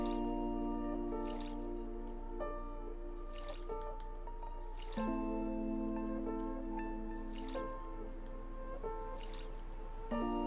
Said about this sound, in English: Maybe there's like at least one flower that will get better if we water it.